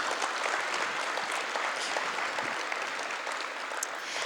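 An audience at a one-year anniversary celebration for a helicopter company in Guyana gives a sustained round of applause, an even wash of many clapping hands heard alone at moderate level throughout.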